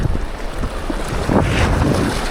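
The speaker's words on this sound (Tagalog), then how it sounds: "Lumakas na yung hangin guys." Strong wind buffeting the microphone in heavy, rumbling gusts while fishing by the water, with water and waves faintly beneath, loud and continuous.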